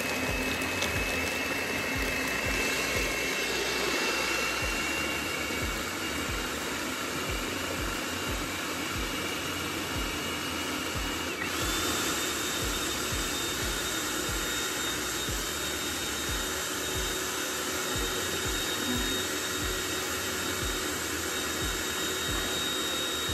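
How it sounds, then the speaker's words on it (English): A blender roars loudly and continuously for over twenty seconds, with a steady whine and a rough grinding rattle as ice is crushed for a banana smoothie. "I want you guys to hear the blender."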